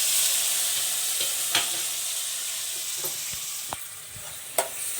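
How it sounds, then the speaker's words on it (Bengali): Tomatoes fry in a pan with watermelon rind. A close, steady sizzle runs throughout, broken by a few soft scrapes and knocks as they are stirred. No one speaks. "টমেটোটা দিয়ে দিলাম দিয়ে এবার ভালো করে কষাবো"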